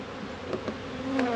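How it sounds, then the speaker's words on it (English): Honey bees buzz around a hive entrance on a cold spring day, a steady close drone with individual bees zipping past the microphone and a few louder passes near the end. "So a lot of bees are going to be coming back to here."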